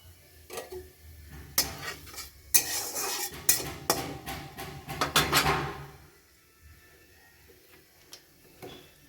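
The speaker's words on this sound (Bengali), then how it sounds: "আমি একটু ঘুলিয়ে নিচ্ছি সর্ষেটাকে নুন আর হলুদ দিয়ে" Metal spoon scraping and clinking against a bowl as mustard paste is stirred with salt and turmeric, close and loud in irregular bursts over several seconds, then a quieter stretch with a few faint clicks.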